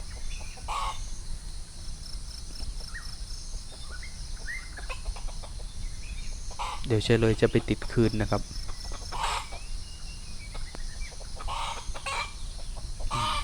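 A flock of wild junglefowl near a palm plantation clucks and crows, with a loud burst of calls midway over a steady backdrop of chirping crickets, while someone speaks briefly in Thai.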